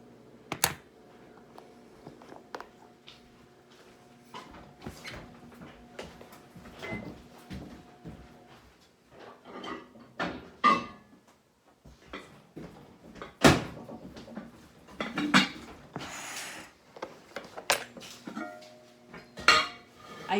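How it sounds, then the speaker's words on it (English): Dishes, pots and cutlery clatter in a home kitchen as cooked chicken is taken out of a microwave, with scattered sharp knocks, cupboard and door bumps throughout, loudest in a busy burst toward the end. "And now we'll get the chicken out of the microwave."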